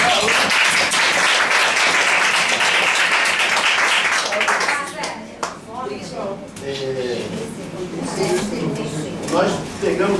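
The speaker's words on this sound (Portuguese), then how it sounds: "Um aplauso aí ao Senhor." A church congregation's applause during a Bible lesson: a burst of clapping for the first few seconds that fades out, followed by a voice talking.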